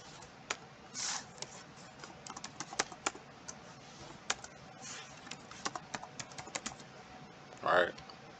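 Password being typed on a computer keyboard while setting up an online account: a run of quick, close, irregular key clicks, with a couple of brief rustling bursts and no talking.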